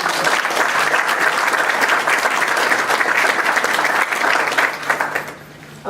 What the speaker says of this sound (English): let's give another round of applause for all of us